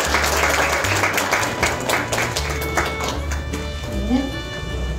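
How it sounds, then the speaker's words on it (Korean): An audience at a year-end county residents' association forum in Inje breaks into loud, sustained clapping for an award presentation, dense and continuous across the whole stretch. "큰 박수 부탁드리겠습니다."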